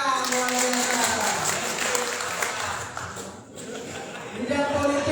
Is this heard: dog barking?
no